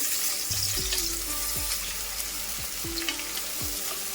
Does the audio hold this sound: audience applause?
no